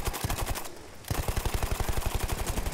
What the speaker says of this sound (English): So this is the other LMG, which I had no idea, but the recoil on this thing is absolutely